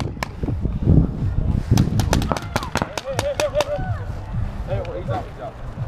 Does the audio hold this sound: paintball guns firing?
yes